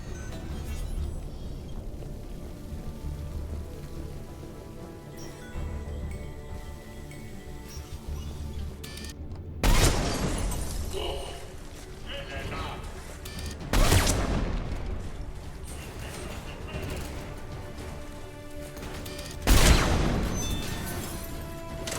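Gunfire bursts ring out in Mass Effect 3, three loud sharp crashing volleys spaced several seconds apart over quieter game ambience and music, with no talk.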